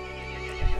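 A horse in Resident Evil Village lets out a loud, close whinny with a trembling, harmonic tone, ending in a low snort and hoof clatter.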